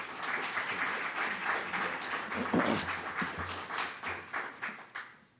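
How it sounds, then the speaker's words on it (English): An audience applauds two guests at a book talk on John Lewis, a moderate round of clapping with a brief murmur of voices that thins into scattered claps at the end. "Please give our two guests a nice round of applause."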